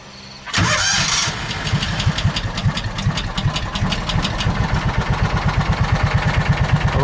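A John Deere Gator 4x2 utility vehicle's engine cranks and fires abruptly, then settles into a loud, slightly rough, rapidly pulsing idle with a steady knocking rhythm, heard close and alone.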